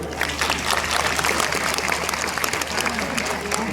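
Crowd applause at a Haryana Police passing out parade in Panchkula, a steady dense roar of many hands clapping outdoors that holds loud and even throughout.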